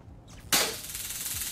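A gunshot in GTA V FiveM roleplay: a sharp loud crack at about half a second, followed by a sustained bright noisy tail, with no talking over it.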